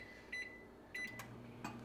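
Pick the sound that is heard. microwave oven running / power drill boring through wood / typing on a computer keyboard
microwave oven running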